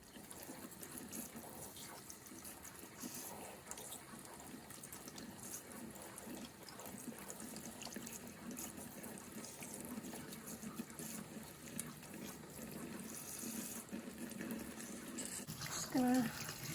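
Charred green chilies rinsed under a running kitchen tap, a steady close wash of water splashing and trickling over the peppers in a sink, continuous throughout with no talk.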